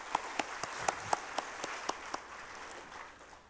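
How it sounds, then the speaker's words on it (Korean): A church congregation claps during a Sunday worship service: a few sharp, distinct claps ring out at a steady rhythm, then fade into softer, scattered clapping. "하나님께 감사 영광의 박수 올려줍시다"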